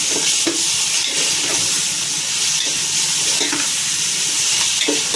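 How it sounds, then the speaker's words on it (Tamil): Tomatoes fry in a hot pan at home while the cook prepares a Sunday lunch. A steady, close sizzle runs throughout, with scraping stirs at irregular intervals and no talking. "இந்த ஸ்டேஜில் நம்ம தக்காளி போட்டுக்கலாம்."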